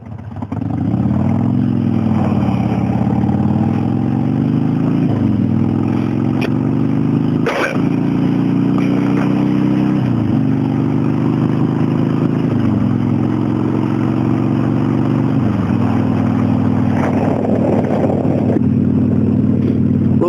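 A car engine drones steadily and loudly throughout a drive on a road near Trout Lake, its pitch rising and dropping through several gear shifts, with a brief clunk partway through and no talking.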